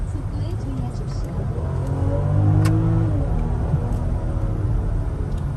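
A BMW X5 45e plug-in hybrid SUV with a 400-horsepower six-cylinder accelerates, heard from inside as a low, steady engine drone that swells and rises in pitch mid-run before settling.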